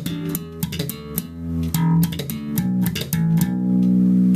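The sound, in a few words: slap bass groove with muted rake triplets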